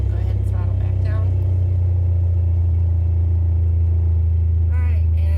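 Steady low drone of a Cessna 172 engine in a home-built flight training device settling as the throttle is pulled back, a continuous near rumble throughout with a voice speaking over it.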